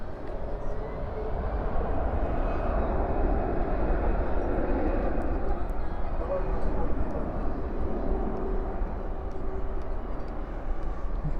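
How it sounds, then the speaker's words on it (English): China Airlines cargo Boeing 747 at night at DFW airport, a steady broad jet engine roar held at constant loudness throughout, with faint voices underneath. "China Airlines cargo flight 5265. The Queen of the Skies lit up here in"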